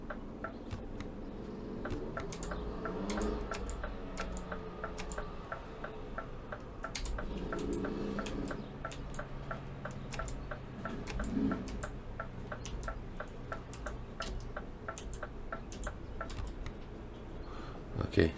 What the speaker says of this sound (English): I activated my hazards even though I didn't want to